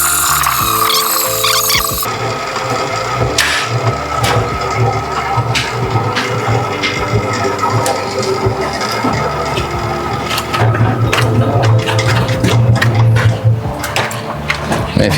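A home honey extractor spins frames of honeycomb with a steady mechanical whir and rattle, its pitch rising as the motor speeds up, while voices talk over it throughout.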